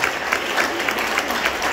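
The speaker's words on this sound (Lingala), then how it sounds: "Acclame la parole." A church congregation applauding at a Bible seminar, a steady dense wash of clapping that fills the whole moment at moderate level, with no voices standing out.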